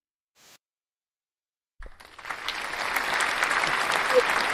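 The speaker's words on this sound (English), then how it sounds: "Give yourselves a round of applause" Audience at an encouragement talk bursting into applause after a brief silence, the clapping swelling into a dense, sustained roar of many hands that carries on to the end.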